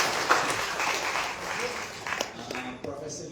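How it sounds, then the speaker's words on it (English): Conference audience applause, moderate and somewhat thin, with a voice speaking over it as the clapping dwindles into scattered claps. "Let us give them a round of applause."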